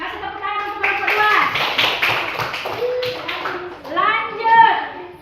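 Children in a classroom clap for a class group, a burst of quick, dense hand claps mixed with kids' voices and an adult speaking over it.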